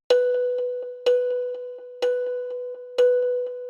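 A bright synth beeps a short repeating melody, a sharp accented note every second followed by softer plucks, steady and clean with no voices.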